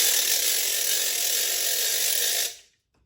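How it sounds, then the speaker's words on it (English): A handheld ratchet percussion instrument cranked by its handle, a loud, rapid, continuous clatter of clicking for over two seconds that stops abruptly, leaving silence. "all you have to do is turn this handle,"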